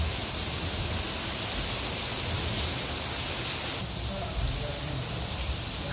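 Heavy rain pours down on an empty road at a temple town in Chhattisgarh, a dense, loud, continuous wash of downpour with no break.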